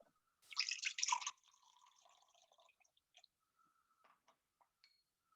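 Water is poured into a pan of kale sautéing with tahini, a short close splash and sizzle followed by faint scattered drips and clinks.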